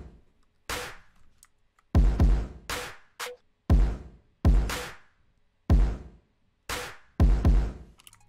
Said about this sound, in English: together those, like the kick and the clap sounds like